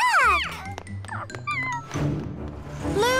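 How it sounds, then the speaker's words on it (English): A cat meows repeatedly in a cartoon-like scene, several rising and falling mews close and clear, with a brief voice in the middle. "Hi, little cat. Do you want a treat?"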